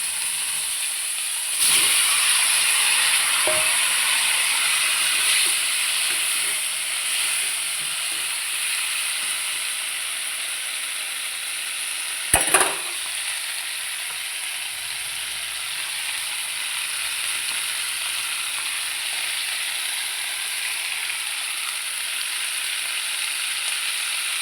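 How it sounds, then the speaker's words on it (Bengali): Cauliflower frying in a pan with salt and turmeric, a steady close hissing sizzle punctuated by a few sharp stirring scrapes and clinks, continuing evenly with no voices. "এখন ফুলকপিগুলো নুন হলুদ দিয়ে ভালো করে লাল লাল করে ভাজি"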